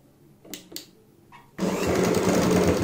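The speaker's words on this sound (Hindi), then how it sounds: "ऐसे रखते हुए हम सिलाई लगाएंगे।" An electric sewing machine starts up after a few soft handling clicks and then runs steadily and loudly, stitching a boat-neck kurti with cord laid under the presser foot.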